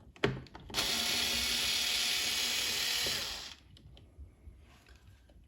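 A powered screwdriver with a hex bit backs out screws on a Philips LatteGo coffee machine, a steady high whirring burst of about three seconds after a small click, close and alone.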